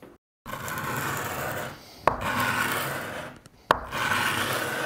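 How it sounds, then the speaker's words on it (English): Sandpaper rubbed by hand on a wooden deck beam for skin-on-frame boat joinery, sustained raspy strokes in three bursts separated by short pauses and sharp knocks. "we're going to go back to the sandpaper again"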